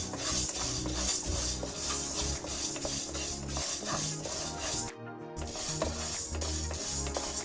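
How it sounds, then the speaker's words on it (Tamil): Moong dal dry-roasting in a pan, a continuous close scraping and rustling of stirred lentils with metal utensil clinks and one brief pause. "அதுக்கு 1/4 டம்ளர் பாசிப்பருப்பு எடுத்து வறுத்துப்போம். இது நிறம் மாறுற வரைக்கும் வறுத்துப்போம்."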